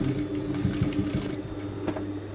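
A sewing machine stitching a pair of kids' pants runs in a short, steady mechanical whir with a quick rhythmic patter of needle strokes, close and continuous for a couple of seconds.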